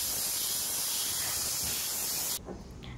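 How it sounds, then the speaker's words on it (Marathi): A pressure cooker cooking chickpeas vents steam in a loud, continuous hiss for over two seconds, then cuts off abruptly and leaves only faint rattles. "आता मी कुकरच्या 3 शिट्ट्या घेणार आहे"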